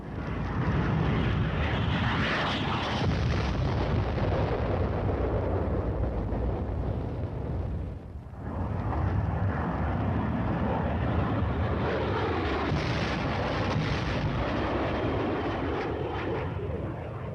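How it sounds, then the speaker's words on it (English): Military aircraft drop napalm over dug-in enemy positions in a Cold War tank-tactics film, a continuous loud roar of engines and fiery blasts that swells, dips briefly midway, then builds again. "The deadly napalm is dropped in a veritable blanket of destruction over the enemy's position."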